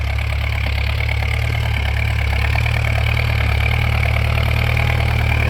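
A Ford farm tractor's diesel engine, pulling a corn seed planter up a steep hillside, runs steadily with a loud, throbbing low chug and rattly mechanical clatter, close by and constant throughout.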